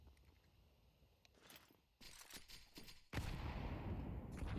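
Bursts of rapid gunfire in a video game, scattered shots and fusillades that build into a loud, sustained volley with faint footsteps.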